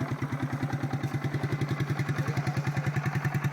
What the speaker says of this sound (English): Yeah, I'm going to let that idle.